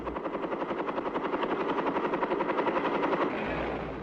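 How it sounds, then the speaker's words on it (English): Chinook cargo helicopters sling-carrying 105mm howitzers into a tactical zone: loud, steady rotor thudding with rapid rhythmic blade chop over heavy engine roar, continuous and close, easing slightly near the end. "105mm howitzers are sling carried into the tactical zone by Chinook cargo helicopters."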